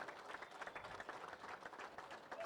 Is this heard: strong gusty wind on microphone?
no